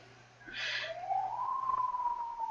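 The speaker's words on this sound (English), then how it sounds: "You should be hearing some sirens" A faint siren wails in the distance, its pitch rising and holding, with a brief burst of noise near the start.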